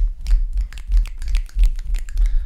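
A finger snap blended with a clap, produced as a quick run of sharp, crisp hits in an uneven rhythm, close up and without talk over it.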